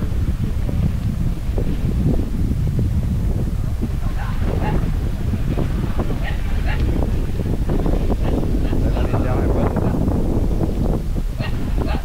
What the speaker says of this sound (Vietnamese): Lên đèo Hải Vân này thì ở trên này gió rất là to